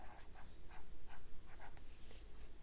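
Pencil scratches on paper in a short series of rhythmic, quiet strokes during a kindergarten writing lesson, close and soft over faint background hiss.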